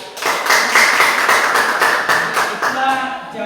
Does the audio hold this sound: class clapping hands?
yes